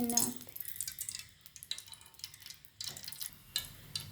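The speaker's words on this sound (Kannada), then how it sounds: "ಇದು ಎಣ್ಣೆ ಬಿಸಿಯಾಗಿದೆ, ಇದಕ್ಕೆ ಬೆಳ್ಳುಳ್ಳಿ ಹಾಕ್ಕೊಂಡು" Hot oil sizzles in a pan while spinach sambar is being made, a faint, crackly hiss broken by spoon stirring and clinks, with a voice speaking over it.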